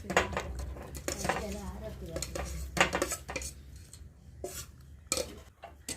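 Masala chickpeas, the festival-ground snack, are scooped into a bowl, giving repeated clinks and scrapes of a spoon against pots and dishes, fairly close, with voices talking in between.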